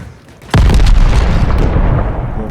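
A sudden loud video game explosion booms after a brief quiet moment, followed by a sustained rumbling roar that slowly fades.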